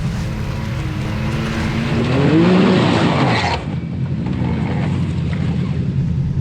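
Engine roar from a Kawasaki UTV, a Teryx5 H2 or KRX 1000, as its tires spin on a dirt trail, loud and continuous with revs swelling in the middle then easing off, no talk over it.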